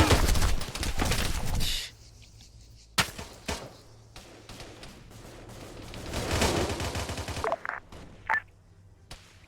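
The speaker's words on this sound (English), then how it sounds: "We're hearing a large number of shots from C" Many gunshots ring out in a video game: a loud dense burst of fire at the start, then scattered sharp shots and another rolling volley, with beeping tones near the end.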